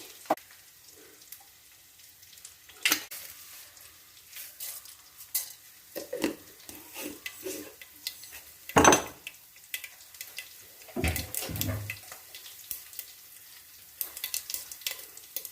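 Mixed vegetables fry in a hot pan with scattered stirring scrapes and clatters of a utensil against metal, close by over a faint, quiet sizzle, with no one speaking.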